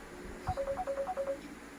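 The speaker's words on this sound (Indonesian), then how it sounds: "Bunda, handphone bunyi dong, Bunda." A mobile phone rings with a short, quick melodic ringtone, faint and a little distant, in a room during a teaching session, over low background noise.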